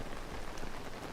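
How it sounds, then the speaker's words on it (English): Steady patter of raindrops hitting a glider in The Legend of Zelda: Tears of the Kingdom, a dense continuous hiss of individual drops, fairly faint and even throughout. "I don't remember being able to hear the individual raindrops hit my glider like this before."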